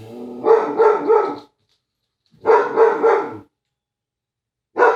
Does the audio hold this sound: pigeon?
no